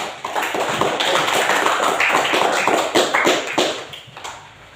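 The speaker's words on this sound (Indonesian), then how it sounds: "Tepuk tangan kita semua" Dense, continuous clapping from a small group, close and lively, tapering off near the end.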